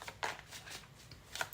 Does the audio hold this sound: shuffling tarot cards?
yes